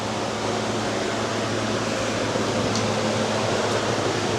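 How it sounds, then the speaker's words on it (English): An old DeWalt electric fan blows steadily, a loud continuous whooshing hum with a low mechanical drone and no pauses. "Got the old DeWalt fan out."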